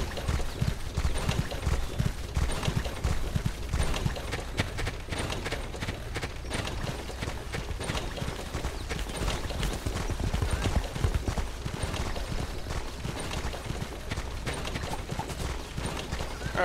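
Rapid, continuous clip-clop of horse hooves at a fast run in the video game Age of Wushu, loud and close, with no talking.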